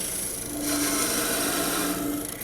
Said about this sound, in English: And cut it off there with the parting tool